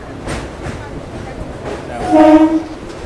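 A local train rumbles across the Kolaghat bridge over the Rupnarayan river, its horn sounding in a loud, steady blast near the end over continuous rail noise and wheel clatter; a voice briefly speaks.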